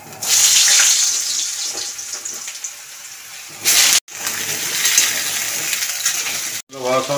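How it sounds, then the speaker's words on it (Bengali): Potatoes frying in hot oil in a wok, a loud steady sizzle with bright crackle that cuts off briefly twice, then resumes. "আলুগুলো একটু ভেজে নিচ্ছি।"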